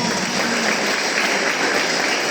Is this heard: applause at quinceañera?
yes